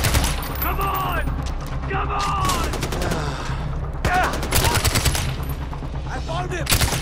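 Rapid automatic gunfire in the video game Far Cry 4 on PS4, with dense machine-gun bursts and single cracks throughout, under excited shouting voices.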